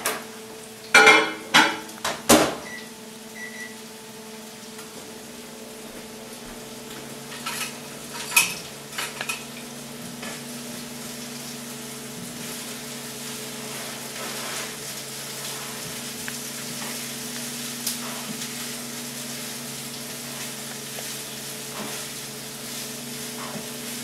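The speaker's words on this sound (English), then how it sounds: "I hear my vegetables behind me sizzling" Vegetables sizzling steadily in a hot pan, with a few sharp clanks of a utensil stirring against the pan at the start and occasional clinks later, no talking.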